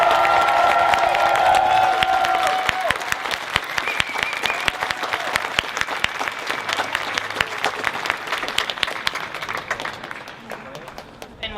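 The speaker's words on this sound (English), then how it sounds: "let's give them all one final round of applause." Final round of applause at a university history department spring commencement ceremony, a large audience clapping steadily throughout, loud and sustained at first and then thinning slightly, with some cheering mixed in.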